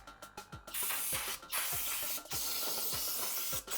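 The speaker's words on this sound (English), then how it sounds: "spray it with brake cleaner real quick to clean it" Short hissing bursts from an aerosol can of brake cleaner during an oil change on a 2016 Dodge Durango R/T 5.7L V8 HEMI, a few quick taps at first, then longer sustained sprays with brief pauses.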